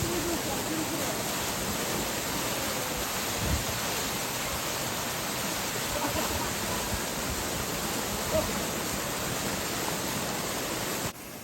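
Waterfall in the Amanos mountains, a constant dense rush of falling water filling the whole stretch at steady level, close and unbroken, with only faint incidental knocks and no speech.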